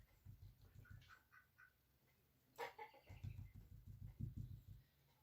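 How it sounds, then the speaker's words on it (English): A backyard rooster, agitated, gives repeated crowing and squawking calls at moderate distance, bursts clustered at the start and end with a brief sharp cry midway, no talking. "that's my rooster. He's upset."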